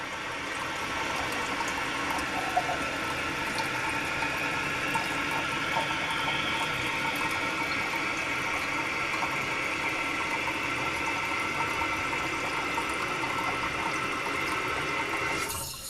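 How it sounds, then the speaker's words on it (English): A toilet flushes with a homemade water softener fitted, giving a steady rush of water that holds at an even level for about fifteen seconds and then cuts off abruptly, with no talk. "And that's one flush."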